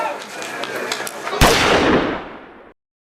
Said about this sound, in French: Puis ils ripostent à coups de gaz lacrymogène.